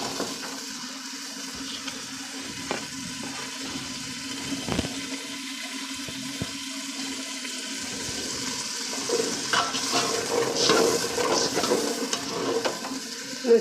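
Peas are tipped into masala frying for beef karahi, bringing a steady sizzle with wet stirring and scraping sounds that grow busier toward the end, close and continuous with no talk.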